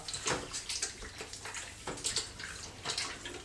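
Black-and-white film developer is poured out of a developing tank into a sink, giving a series of splashing gushes and trickles in uneven bursts, close and fairly quiet, with no talk.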